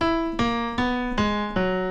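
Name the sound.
piano playing motif slightly off-key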